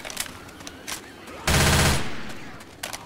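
Gunfire in Left 4 Dead 2 during four-player co-op: scattered single shots, then a loud half-second burst of rapid automatic fire, followed by a few more isolated shots.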